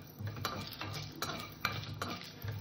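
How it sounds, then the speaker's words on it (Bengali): Ground spices including garam masala, coriander and cumin lightly frying in a pan, with a soft sizzle and rhythmic stirring strokes about every half second, quiet and close. "হালকা করে ভেজে নেব।"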